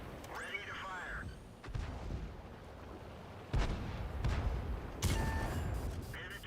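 A tank cannon fires in a video game, with two or three heavy, booming shots spaced a second or two apart. Constant rumbling battle noise runs underneath, and brief tonal chirps and a voice-like sound appear early on.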